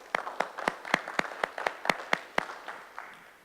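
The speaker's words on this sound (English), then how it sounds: "give yourself a round of applause" Workshop participants at a town comprehensive plan visioning meeting give themselves a round of applause, a small group clapping in a steady, rhythmic beat of about eleven crisp claps that trails off at the end.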